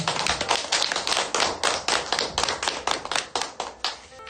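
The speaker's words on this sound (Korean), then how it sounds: "다시 한번 우리 미아님 박수 부탁드리겠습니다" Audience at a literary concert applauding after an essay reading, hands clapping together in a fast, steady rhythmic beat, loud and near, with no talk over it.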